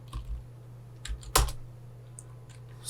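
Computer keyboard keys are tapped in a few short, scattered bursts of close clicks, with pauses between them over a low steady hum, and no one speaks.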